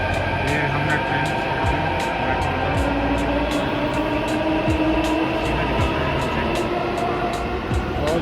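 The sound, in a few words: train moving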